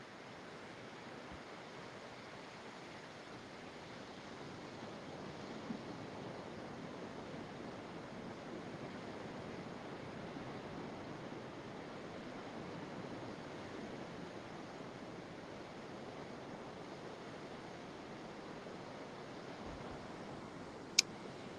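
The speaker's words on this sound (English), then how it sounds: "But here's some beautiful ocean." Ocean surf rolling in, a soft, even, continuous hiss of waves, faint and distant-sounding, steady throughout with a single sharp click near the end and no talking.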